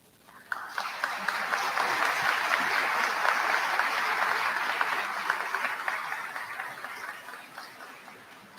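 A large crowd at a college commencement ceremony applauds steadily for several seconds, a dense wash of clapping that builds quickly, holds, then gradually tapers off.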